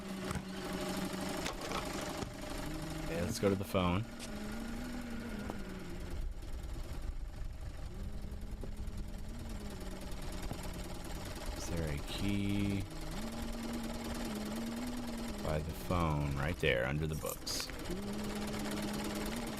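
A video game's sewing machine hums continuously as a steady mechanical drone, with a person speaking in short bursts over it.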